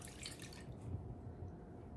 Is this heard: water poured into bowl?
yes